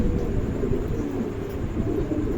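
A pair of pigeons gives low, soft cooing close by, repeated murmuring calls over a steady background hum, with no talking.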